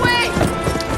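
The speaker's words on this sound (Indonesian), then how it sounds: "Kuda itu terus kabur dan langsung dikejar sama Angelica." Hooves clatter in a quick galloping rhythm over a busy background of noise, fairly close and loud.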